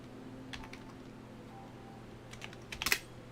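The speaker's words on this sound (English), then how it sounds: "typing Y'shtola, because that name is a bit annoying to type on the keyboard" Typing on a computer keyboard to enter a character name in Final Fantasy XIV: a few soft, scattered key clicks early on, then a brief, louder flurry of keystrokes near the end, with no voices.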